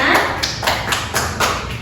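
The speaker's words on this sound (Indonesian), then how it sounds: "Tepuk tangan untuk kalian semua" Students clap their hands in sharp, regular beats, about six or seven distinct claps in a steady rhythm, close and fairly loud.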